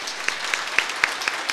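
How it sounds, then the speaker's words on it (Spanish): A church congregation at a feast-day Mass applauds, a short burst of many hands with a few crisp nearby claps falling in a loose, regular beat, with no voices over it. "Un aplauso a nuestro Señor."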